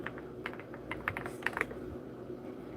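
Keys clatter on a computer keyboard in quick, uneven bursts of light clicks, close and fairly quiet over a soft background hum, with no voice during the typing.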